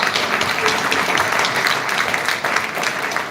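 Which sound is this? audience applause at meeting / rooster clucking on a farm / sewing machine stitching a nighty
audience applause at meeting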